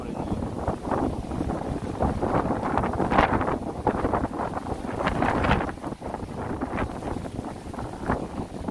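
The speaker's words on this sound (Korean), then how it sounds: "바람이 불어서 넘어질 뻔했네" Strong wind gusts buffet the microphone on an exposed mountain peak known for columnar basalt, a broad roaring rush that swells and dips continuously throughout, with a voice speaking intermittently under the noise.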